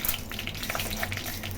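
Chana dal hits hot oil already crackling with mustard seeds and curry leaves, giving a close, busy sizzle with scattered pops and a brief stirring scrape.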